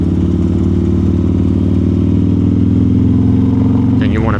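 A Harley-Davidson Road Glide ST motorcycle rumbles steadily and loud up close while riding canyon trails, its low engine note holding constant throughout before a brief shift near the end.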